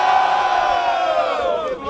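A crowd at a street rap battle in Barueri, São Paulo roars and cheers in one sustained loud burst of shouting and whooping, fading slightly at the end.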